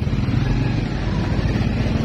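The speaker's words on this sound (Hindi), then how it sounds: "बाइक हमने चला रही है" A motorcycle rides through a street in Lahore, its engine a steady, loud, continuous drone close by with constant low rumble and road noise throughout.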